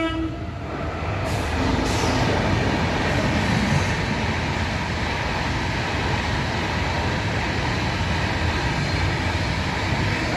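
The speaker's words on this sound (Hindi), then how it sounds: "ट्रेन आ गई" An evening train arrives at a station, its steady loud rumble and rolling clatter filling the scene continuously, with a brief higher tone near the start.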